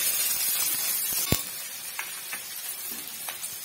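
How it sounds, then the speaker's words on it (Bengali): Onion frying in a pan gives a constant, close hiss and sizzle, broken by one sharp clack of a spatula and a few lighter taps of stirring. "পেঁয়াজটাকেও কিছুক্ষণ একটু ভেজে নেব।"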